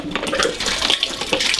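Disinfectant mouthwash water pours and splashes out of a pony's mouth during a horse dental examination, a steady close gush of trickling water with no voices.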